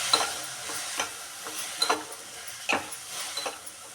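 Radish seed pods fry in a pan and are stirred, giving a soft continuous sizzle broken by scattered light scrapes and ticks from the stirring, close and moderately quiet.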